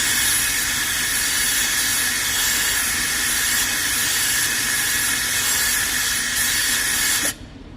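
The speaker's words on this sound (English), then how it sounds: "this is going to blast any loose sand off of it." A spark plug sand blaster cleaner blasts sand with a loud, steady hiss of rushing air that cuts off abruptly at the end.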